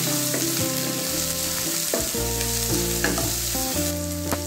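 Ground ginger, garlic and red chilli paste fry with shallots in a pan for masala sundal, a close, steady sizzle sitting under background music, with no one speaking.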